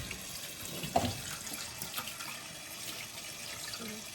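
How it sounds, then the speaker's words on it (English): A kitchen tap runs steadily as a spatchcocked Thanksgiving turkey is rinsed under it, the water splashing and shifting with a few faint knocks, close and moderately quiet. "I'm just gonna rinse off my turkey"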